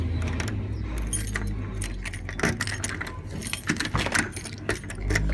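A small set of keys on a cute keychain jangles close up in repeated clinking bursts over a steady low background rumble, with no talk.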